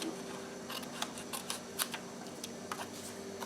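Scissors snipping through paper while making a junk journal, a series of quiet, sharp clicks and cuts spaced irregularly over a soft background hiss, close and faint.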